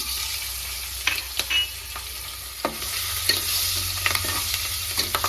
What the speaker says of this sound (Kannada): ನೋಡಿ, ಮೆಣಸಿನಕಾಯಿ ಫ್ರೈ ಆಗ್ತಾ ಇದೆ.